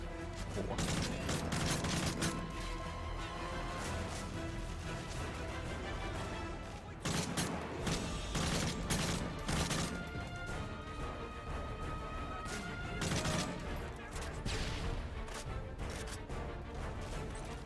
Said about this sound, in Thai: ปืนโคตรแรงปืนแรงถีบสูงมากเลย